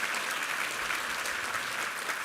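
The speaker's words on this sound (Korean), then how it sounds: "우리 하나님께 감사와 영광의 박수 올려드리겠습니다." A congregation claps at a Sunday worship service in church. The applause is short, fairly quiet and evenly spread, with no voices over it.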